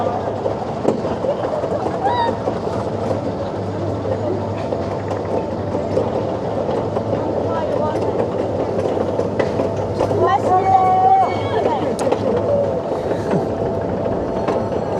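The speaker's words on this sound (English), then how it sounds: "It looks like quite an old ride, this one." An old amusement park ride rumbling along its track at Le Pal theme park, a continuous rolling clatter with wheel noise and occasional squeals, while people talk over it.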